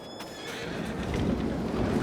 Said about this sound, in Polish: Tutaj mamy koniki. Koniki już są w zagrodzie.